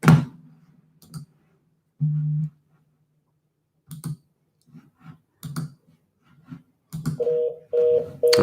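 A landline telephone being dialed during a cold call, with separate clicks and short tone bursts at uneven intervals, then steady tones near the end, close and fairly quiet.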